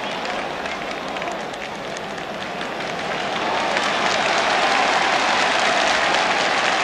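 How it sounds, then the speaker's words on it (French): Stadium crowd applauding during a 1961 France versus Spain friendly football match, a broad, distant wash of clapping and crowd noise that swells and grows louder partway through. "Ces applaudissements que vous entendez vont à l'adresse du capitaine et chef de la défense française André Leron"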